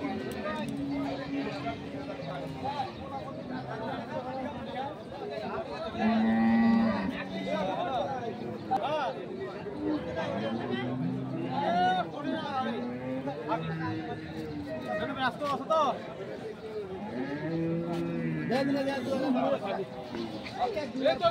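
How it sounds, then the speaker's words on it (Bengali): Two Indian Haryana breed bullocks bellow with long, low moos at a bustling Bangladeshi cattle market ahead of Eid sacrifice, their calls rising repeatedly through steady nearby talk and crowd chatter. "চমৎকার দুটি বলদ গরু।"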